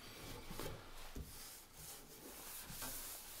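Metal is rubbed with 200 grit sandpaper while restoring a 1920s Prentiss-Wabers Auto-Cook-Kit No. 4, giving several short, faint scratchy strokes in an uneven back-and-forth rhythm.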